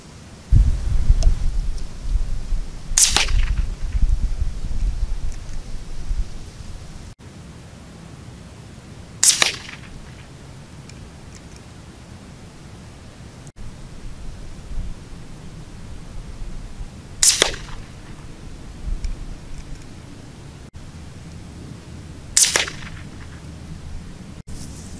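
Diana air rifle firing pellets at targets: four sharp, isolated cracks spaced several seconds apart over quiet outdoor background, with low rumbling noise at the start.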